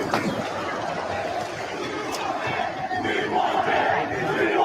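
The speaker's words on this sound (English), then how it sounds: "Listen to that crowd." A huge crowd at a political rally roars with sustained cheering and shouting, a dense, steady wall of voices held loud throughout.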